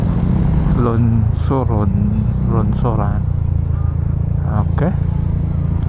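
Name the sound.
city traffic while riding motorcycles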